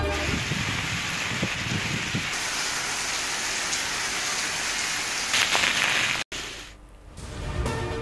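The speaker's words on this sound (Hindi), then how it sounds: "इस्लामाबाद रावलपिंडी में तेज बरसात" Heavy rain pours down in Islamabad and Rawalpindi, a dense, continuous hiss of drops on surfaces that breaks off sharply and then resumes more softly.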